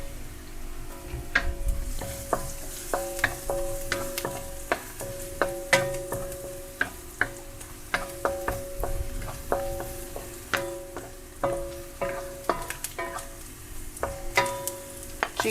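Garlic frying in oil for Chinese fried rice, a constant sizzle under repeated sharp metallic scrapes and clinks of a utensil against the pan, close and busy throughout.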